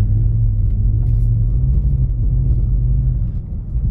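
BMW E46 car drifting in snow: a low, steady engine rumble held at a constant drone, close and loud, easing slightly near the end.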